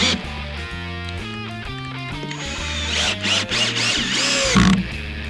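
A power drill drives 2.5 inch outdoor screws into wood for a backyard bike trail drop, its motor whining in stepped pitch changes as each screw bites, loud and close, with a short high-pitched squeal near the end.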